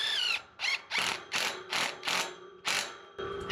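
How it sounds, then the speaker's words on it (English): An impact wrench drives a bolt with a nylon nut while a gate is installed, giving about seven rapid rattling hammer bursts in a steady stop-start rhythm, close and fairly loud with no talking. "Okay, so I am going to tighten this down with my impact wrench."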